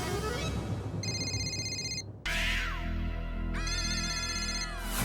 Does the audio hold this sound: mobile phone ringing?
yes